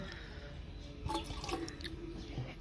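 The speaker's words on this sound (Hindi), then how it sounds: "और भी पानी डाल" Water being poured into a container of plant soil makes faint trickling and dripping splashes, with a few brighter drops standing out in a quiet room.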